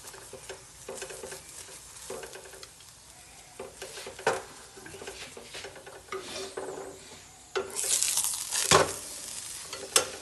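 Radish-stuffed paratha frying in ghee on a flat pan, a steady sizzle with scraping and stirring sounds, louder bursts of crackle near the end, no voices.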